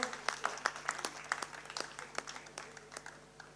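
Audience applause at a Lions Club of Calcutta North award ceremony honouring past presidents, a room of steady clapping with sharp individual claps standing out, fairly faint and tapering off toward the end.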